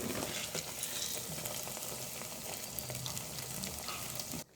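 Taro pieces fry in hot oil with a dense, steady crackling sizzle that fills the scene close up, with faint occasional stirring, cutting off abruptly at the end.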